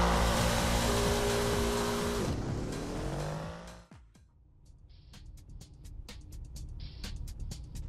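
A BMW E34 540i with a V8 engine in Assetto Corsa roars loudly, its tone sweeping down as it passes, then falls to a quieter idle broken by sharp clicks and ticks.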